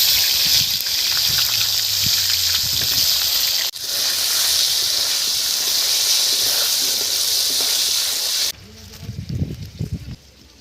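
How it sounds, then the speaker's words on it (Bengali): Potatoes fry in hot oil with a steady loud hiss that cuts out abruptly near the end, while a person talks underneath. "এখন আলুগুলো ভেজে নেব"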